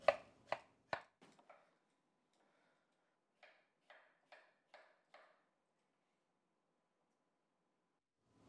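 A knife chops fruit into small squares on a cutting board in crisp, close taps, a quick run of several strikes followed after a pause by a second, evenly spaced run of five.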